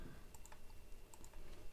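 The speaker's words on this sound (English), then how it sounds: "and if I am typing iPhone" Typing on a computer keyboard, quick irregular clicks of keys tapped close by at low level, with faint room noise and no speech.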